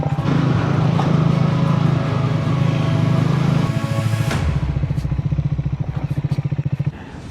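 A motorcycle rolls down a ghat road near Paderu and Balda. Its loud, steady engine drone changes after a few seconds into a rapid, rhythmic chugging pulse that fades slightly toward the end.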